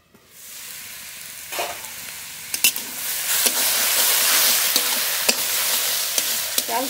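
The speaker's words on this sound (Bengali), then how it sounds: "এবার নেড়ে নেড়ে খুব ভালো করে ভেজে নেব" Diced ash gourd being stirred and fried in a pan with turmeric after steaming, a steady close sizzle rising and holding, broken by sharp scraping clicks of the spoon against the pan.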